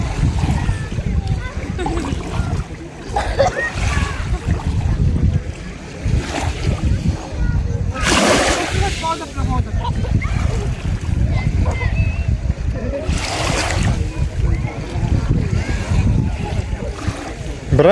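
A child swimming in the sea at a beach, with steady surf and water splashing throughout and brief louder splashes, under frequent cheering adult talk.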